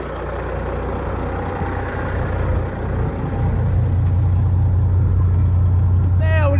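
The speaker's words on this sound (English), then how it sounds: "Harry's tooling around with his truck." A truck engine rumbles nearby as it drives around, a loud, steady low drone that swells and deepens toward the end.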